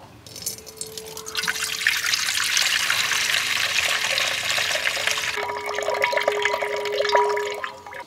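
Water from ragi milk dribbles and drips steadily, close by, as a continuous trickle with a faint tonal ring and no speech.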